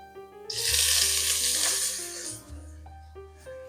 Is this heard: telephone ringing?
no